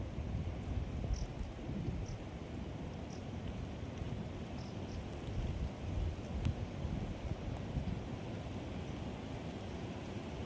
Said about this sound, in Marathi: पाऊस चालू झाला बघा